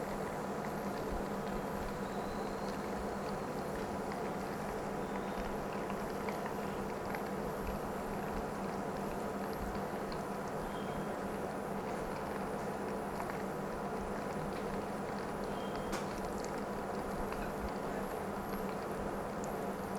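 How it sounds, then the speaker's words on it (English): Butter browning in a saucepan gives off a steady, dense bubbling sizzle that holds evenly for the whole stretch, close and constant, with no voices over it. "So it's going to be bubbly most of the time."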